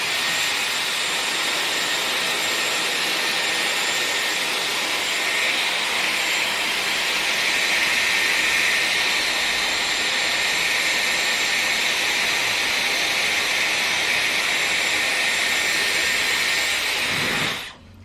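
Dyson Airwrap hair styler blowing a steady, loud rush of air for about seventeen seconds without a break, then cutting off abruptly at the end.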